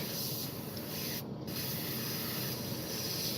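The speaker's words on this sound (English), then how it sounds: "Bit of a kitchen paper towel just to sort of test how we're spraying." A steady, continuous hiss of a spray gun spraying paint onto a kitchen paper towel as a test while building an A-4M model, close and fairly loud, with a brief dip partway through.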